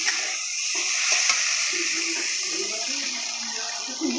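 Greens cooking in a pan with ground cumin paste give a steady, close sizzle and frying hiss, with soft stirring scrapes running throughout.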